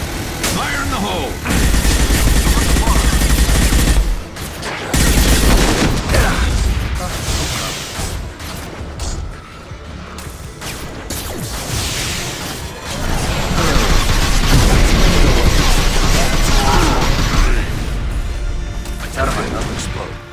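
Gunfire and grenade explosions from combat in Mass Effect 2 are loud and sustained, with heavy booms and bursts of shots over about twenty seconds. Voices shout throughout.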